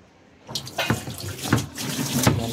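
Water from a tap pours into a washing machine tub, a steady rushing splash that swells in bursts after a quiet start, close and fairly loud with no voices.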